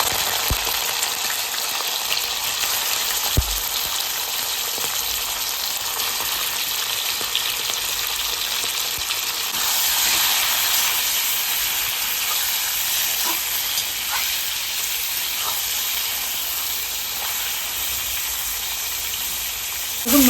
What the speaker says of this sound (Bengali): গরম হয়ে গেছে, এবার আমি মাংসগুলো দিয়ে দেবো।